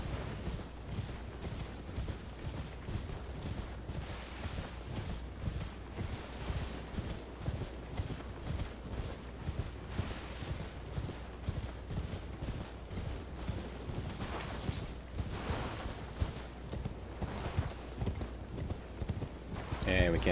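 Horse hooves galloping in Elden Ring, a steady rapid clip-clop running through the whole stretch over game ambience, with a brief burst of other game noise near the end.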